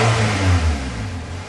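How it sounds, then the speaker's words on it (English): A 2006 Toyota Corolla Altis engine revving hard, a loud, close, continuous throaty roar that swells and then settles slightly over about a second and a half, with no voices. "Rev up your engine!"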